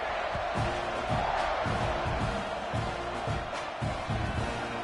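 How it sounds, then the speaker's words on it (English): A dense, steady roar from a simulated stadium crowd in the NCAA College Football 26 video game, with rhythmic chanting pulses over a constant wash of noise during a tied third-quarter kickoff. "this crowd getting annoying, bro"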